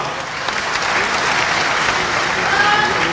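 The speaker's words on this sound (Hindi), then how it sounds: "आदरणीय अमित शाह जी का और हमारे सभी अतिथियों का पुनः एक बार ताली बजाकर स्वागत करें" An audience claps at a book discussion event in Raipur, India, with a government minister present. The applause is loud, steady and sustained from a large crowd and fills the whole moment.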